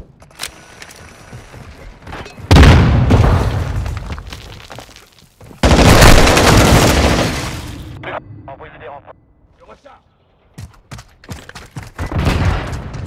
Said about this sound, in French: Je lance une grenade paralysante.